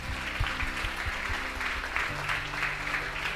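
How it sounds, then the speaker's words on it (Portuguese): A church congregation at a youth congress claps together in a steady, fairly loud burst of applause that fills the room. "Aplauda ao Senhor"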